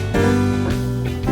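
Blues piano notes ring close and clear, with a quick grace note sliding off a black key into a held chord, then a second short figure follows.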